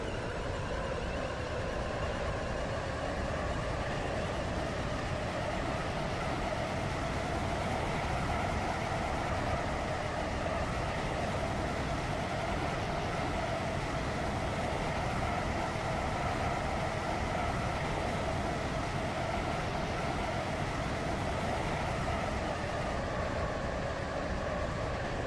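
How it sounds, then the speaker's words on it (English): A Roblox Stepford Railways connect train runs along the line in a video game, a steady low rumble with a faint rolling rhythm of the wheels, continuous and even throughout, with no voices. "This is a connect train to Morganstown."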